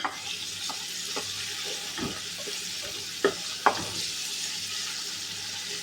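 Chili peppers and onion sizzle in a frying pan, a steady hiss of frying broken by several scraping stirs and light clinks, close and alone without talk.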